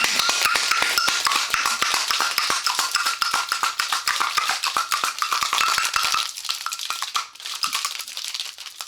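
A cocktail shaker loaded with whiskey sour and egg white being shaken hard, a fast steady rattle of rapid clacking hits, loud and close, easing off and turning irregular near the end.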